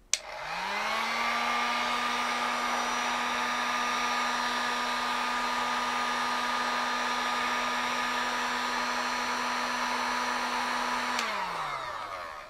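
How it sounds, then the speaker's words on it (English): A heat gun blasting hot air at a temperature and humidity sensor clicks on, its motor spinning up into a steady, fairly quiet whirring hum, then switches off and winds down near the end. "So let's apply some heat using this heat gun."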